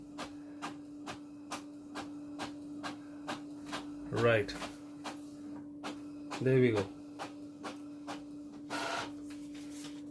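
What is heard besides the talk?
ink-tank printer printing a page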